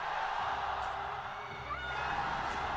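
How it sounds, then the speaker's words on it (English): A large arena crowd at a League of Legends esports match in Shenzhen roaring and cheering continuously, a dense wash of voices with occasional whoops rising above, steady and loud throughout. "That's a loud crowd."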